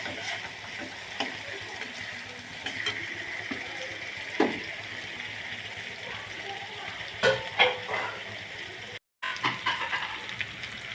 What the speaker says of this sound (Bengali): রসুন দিয়ে দিলাম, এটাকে পেঁয়াজের সাথে কষতে নেব।